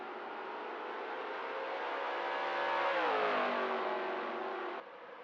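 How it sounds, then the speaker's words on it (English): A NASCAR race car in a racing video game roars steadily as its engine pitch climbs, then drops sharply mid-way as it shifts or lifts, before cutting off abruptly near the end; no voices are heard. "Dorsey Schroeder in that 41 car has a good run down the hill right here"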